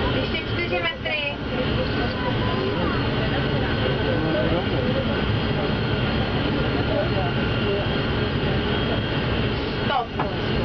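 Four jet engines of a Boeing 747-400 roar steadily at close range as the airliner taxis to a stop at its stand at Prague airport, a dense continuous drone with a voice speaking over it near the end.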